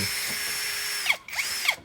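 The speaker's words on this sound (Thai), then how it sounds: "จะเจาะไปเรื่อยๆแล้วกันนะครับผม ดอกตัวนี้มันสามารถเจาะไม้เจาะเหล็กได้นะครับ" A MASARU MSR-CD204 cordless drill runs on its slowest speed setting, boring with a wood-and-metal bit under hand pressure. A steady whirring whine briefly cuts out and restarts near the end. No voices.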